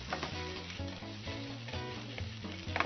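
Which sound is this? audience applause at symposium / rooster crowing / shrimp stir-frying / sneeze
shrimp stir-frying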